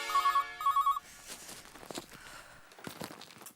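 A telephone rings twice in quick bursts while a call to a friend is being placed, followed by soft rustling and footsteps in a quiet room.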